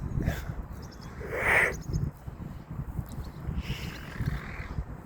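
A faint bird call rings out once or twice against a quiet, noisy outdoor background, with no one speaking.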